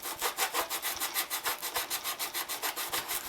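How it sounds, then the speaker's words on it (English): A styrofoam flap is sanded by hand along a marked line, giving a close, steady back-and-forth scratchy rasp of about twenty quick even strokes with no talking. "I'm going to put this here and line it up on my line so I can sand right here."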